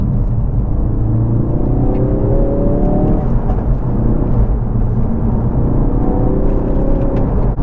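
A tuned Ford Focus RS in sport mode gives a loud, close, continuous engine roar with a rising note as it accelerates. No one speaks over the engine.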